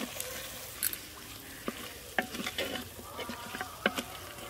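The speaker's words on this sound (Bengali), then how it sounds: "এবার আমি চিকেনের পিসগুলো দিয়ে দেব" Chicken pieces frying in a pan with biryani masala, a soft sizzle under occasional clinks and scrapes of stirring, quiet and close, with no talking.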